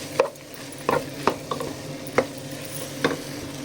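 Potato bhaji with turmeric is stirred in a pan for masala dosa stuffing, a spoon scraping and knocking against the metal in about seven irregular clacks over a low, continuous sizzle.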